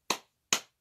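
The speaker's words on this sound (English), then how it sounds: "I've been doing my clap snaps" Two sharp hand claps, about half a second apart, each with a quick bright attack and short decay, close and alone in a quiet room during a stretching session.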